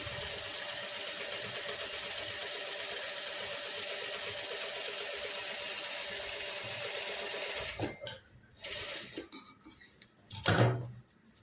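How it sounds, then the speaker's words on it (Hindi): A sewing machine stitches a straight seam with a steady, fast rapid-fire whirring and clatter, then slows and stops near the end, followed by a few louder clunks and handling noises. "इस तरह से आप चाहो तो मशीन का स्पीड कम या ज़्यादा भी कर सकते हो।"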